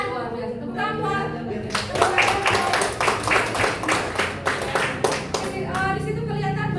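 A classroom of students claps for classmates in a rhythmic burst of hand claps that swells and then fades, with a voice talking before and after it.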